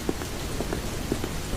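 Rain falls in a Hindi animated cartoon story set in the mountains, a dense, continuous patter of drops with scattered sharper taps, fairly loud and without speech.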